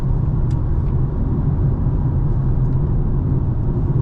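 Deep, steady exhaust rumble from a tuned 2025 BMW M4 Competition xDrive with its exhaust valves opened, a constant low drone at moderate loudness with no revving peaks.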